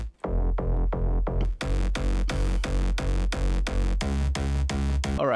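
Three layered basses from the Nexus 4 synth, a slap house bass and a pitch bass, pound out a loud, steady run of punchy notes with rhythmic pumping, playing alone with no voices.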